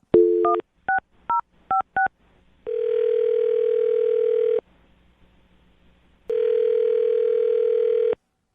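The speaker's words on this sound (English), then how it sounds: "we'll dial her phone number right now, see if she answers" A telephone number is dialed in a quick series of touch-tone beeps, followed by two long, steady ringback tones separated by a silent pause, clear and close.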